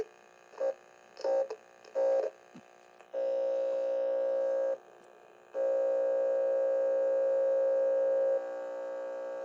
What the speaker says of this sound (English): Part 1 starts with static noise and a computer sound, almost like an old system is trying to load a file.